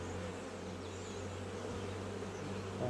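Steady buzzing hum of bees flying near an apiary in April, continuous and fairly loud, with no talking.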